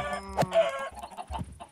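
A few clucks from Minecraft video game chickens sound close and clear, with a couple of sharper bursts spaced across a short stretch and no talking.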